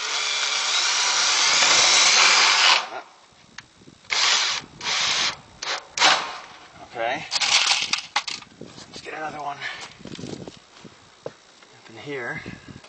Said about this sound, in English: Okay, I'm finishing up the last few screws here.